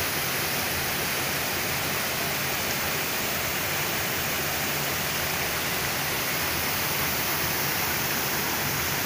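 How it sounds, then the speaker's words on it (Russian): Small mountain waterfall in Romania: a close, loud, continuous rush and hiss of falling water, unbroken and alone for the whole stretch. "Вот такие вот маленькие водопадики, они здесь повсюду."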